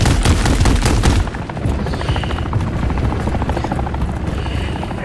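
An attack helicopter in Call of Duty: Modern Warfare III thunders overhead with steady rotor chop, loud and close, while rapid machine-gun fire rattles beneath it through the whole stretch.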